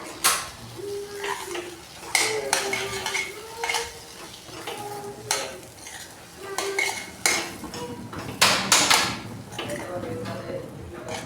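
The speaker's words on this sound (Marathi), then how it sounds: "आता आपण याला चांगलं मिक्स करून घ्यायचं आहे" Metal spoon repeatedly scraping and clanking against a pan while drumstick pod vegetable curry is stirred in oil, a series of sharp close clinks and scrapes at irregular intervals over a soft sizzle.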